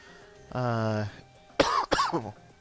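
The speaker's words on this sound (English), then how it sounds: "I didn't mean to start off with clearing my throat." A man clears his throat in a sustained, rough rasp, then lets out two sharp close coughs in quick succession, loud and alone with no talk.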